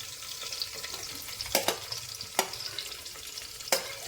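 Green chilli, onion, ginger and garlic sauté in a pan, a steady soft sizzle broken by a few sharp clatters of stirring.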